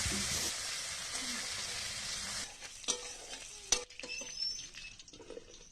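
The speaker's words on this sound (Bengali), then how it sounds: "কড়াইতে বেশ খানিকটা সর্ষের তেল গরম করে মাছগুলা দিয়ে লাল লাল করে ভাজি তুলে নেব" Shrimp hiss and sizzle loudly in hot mustard oil in a wok, a dense, steady crackle that suddenly drops away. Scattered clinks and scraping of utensils against the pan follow.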